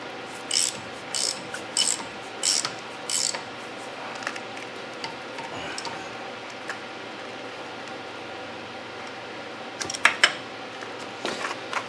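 Quick ratchet strokes on a 12-point socket loosen a bolt, four short bursts of crisp close clicking in the opening seconds, then a long quiet stretch with light metallic handling and a brief clatter near the end.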